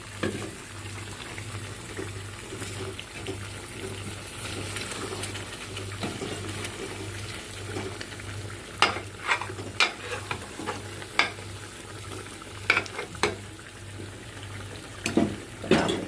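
Stuffed bitter gourd frying in a pan while a spoon stirs it: a steady, soft sizzle throughout, and from midway sharp scraping and clinking strokes of the spoon against the pan.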